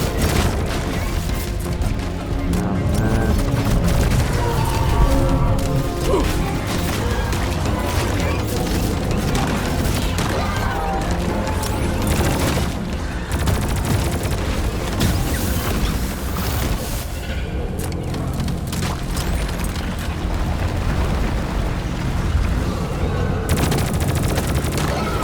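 Dense, continuous gunfire and booming explosions from a Deep Rock Galactic dive in a dense biozone, with weapons firing against a swarm, loud and chaotic throughout.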